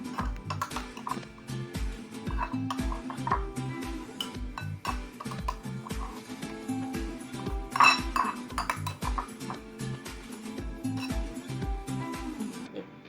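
A spoon or utensil repeatedly scrapes and clinks against a bowl in a steady rhythm as chatpati is mixed with tamarind water, close and fairly quiet, with no talk.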